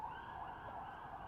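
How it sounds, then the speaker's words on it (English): Emergency vehicle sirens wail at night in Jerusalem, a steady continuous tone held in the distance under the ambient noise. "You can hear the sirens in the background."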